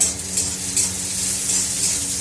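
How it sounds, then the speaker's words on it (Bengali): Onion and bori fry in a pan with a continuous close sizzle, while soft stirring scrapes and light clinks rise and fall through it and no one talks. "পেঁয়াজটা একটু ভাজা ভাজা হোক"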